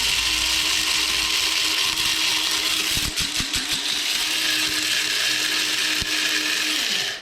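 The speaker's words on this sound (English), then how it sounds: "I like to put my peppercorns in the grinder" An electric grinder whirs loudly and steadily as it grinds peppercorns into powder, with a few rattling knocks partway through before the motor winds down at the end.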